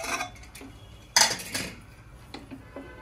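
A cooled pressure cooker holding chicken and dal is opened with a few sharp metallic clanks and clinks of the lid against the pot, loudest midway, in a quiet kitchen.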